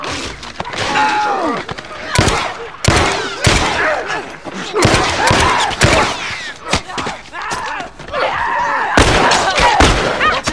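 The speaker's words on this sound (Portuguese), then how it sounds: "que tiro bonito que eu dei aqui" Rapid bursts of gunfire in The Last of Us video game crack repeatedly, some in quick volleys, with sharp impacts and breaking sounds mixed in, loud and close throughout.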